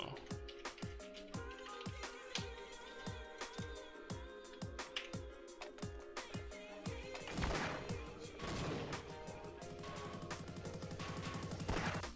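A grenade is thrown in the game Half-Life: Opposing Force, with sharp gunfire-like cracks repeating in a steady rhythm, then a louder, denser burst of noise near the end as the grenade goes off.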